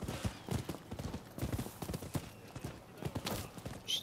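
Horse hooves clip-clop in a quick, steady trotting rhythm during a ride in the video game Rise of the Ronin, moderately close and even, with other game sounds faintly behind.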